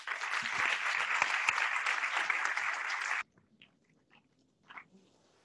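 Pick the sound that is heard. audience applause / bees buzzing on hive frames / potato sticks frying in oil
audience applause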